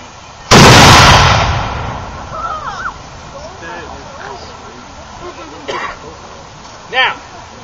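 A muzzle-loading cannon fires once during an artillery demonstration, a loud sudden boom that decays over about a second, followed by scattered crowd voices and distant pops.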